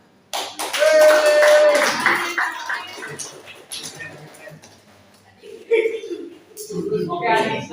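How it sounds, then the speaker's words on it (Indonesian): Classmates clap their hands in a school classroom, a burst of applause up front that fades, then a few more scattered claps and murmurs near the end. "Untuk teman-teman, silakan tepuk tangan"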